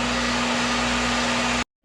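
A hair dryer heat-sets paint on a white crappie fishing lure, running as a loud, steady close whoosh with a low hum, then cutting off abruptly just before the end.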